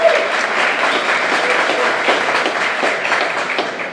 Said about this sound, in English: round of applause for Nikki, right?